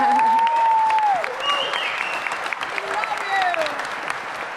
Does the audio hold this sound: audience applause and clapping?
yes